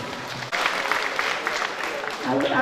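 An audience at a cadet coaching centre event claps together, a dense, steady patter of applause lasting a couple of seconds with voices mixed in.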